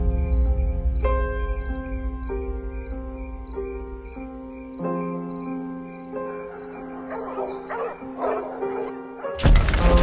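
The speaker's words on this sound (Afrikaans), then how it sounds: "die honde wat blaf" Dogs bark in a quiet rural night setting, sharp yips and woofs recurring among steady cricket chirps and sustained tonal music, before a sudden loud burst near the end.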